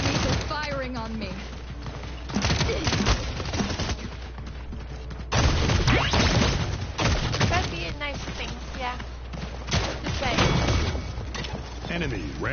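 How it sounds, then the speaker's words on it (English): Enemy gunfire in a PS4 video game: dense bursts of rapid shots and bangs, loud and close, recurring in clusters across the stretch, with game voice chatter and effects mixed underneath. "Enemies are firing on me."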